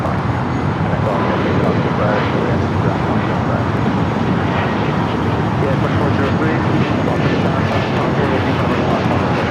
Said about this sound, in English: Let's go to the Air Canada A220-300 at next departure here on the south side.